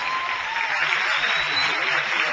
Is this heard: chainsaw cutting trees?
no